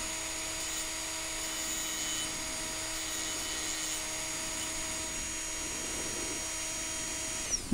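A rotary engraving tool whirs steadily against a glass vase as a giraffe outline is traced, holding a constant high-pitched drone for several seconds before a couple of small clicks at the very end.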